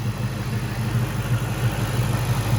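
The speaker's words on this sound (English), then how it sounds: "I guess you could hear the supercharger whine a little bit more" A 2004 Ford Mustang SVT Cobra idles steadily nearby, a continuous low, even engine rumble with no talk over it; no distinct supercharger whine stands out.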